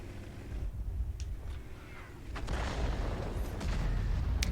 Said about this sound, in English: Oh, here comes the artillery. You see that coming in? It's like a fireworks show.